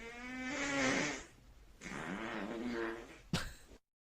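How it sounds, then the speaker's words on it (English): A long, blaring fart from a played recording, loud and tonal with a buzzing, trumpet-like quality, followed by a second rumbling stretch and a brief sharp burst before cutting to silence. "It's an Indonesian fart right there if I've ever heard one."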